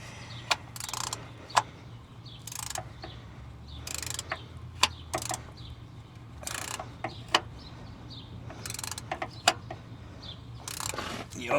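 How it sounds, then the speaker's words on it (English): Socket ratchet clicking in short bursts while snugging a part on a 2009 Chevrolet Tahoe during an oil change, with sharp, close pawl clicks spaced irregularly over a low steady hum. "that's when you come back around with your socket. And you just start twisting it on there."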